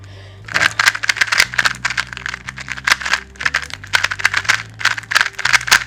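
A Moyu RS2M 2x2 puzzle cube clicks and rattles through rapid twists, bursts of crisp plastic clatter coming in quick succession, close up.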